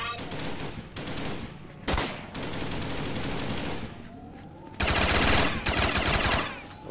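Automatic gunfire from a zombie VR shooter game comes in dense, loud bursts that stop and restart, with a brief sharp shot between them and a longer heavy burst near the end.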